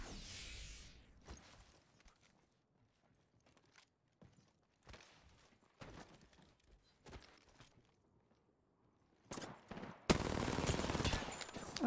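Video game gunfire: irregular bursts of shots spread across the clip, mid-level and fairly close, with a dense, loud volley near the end.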